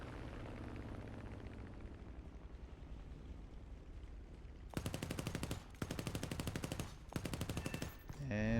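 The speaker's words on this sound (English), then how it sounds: "So we will strafe these trucks here" War Thunder aircraft strafes trucks: engine drone under faint talk, then three loud bursts of rapid machine-gun fire, each lasting about a second, separated by brief gaps.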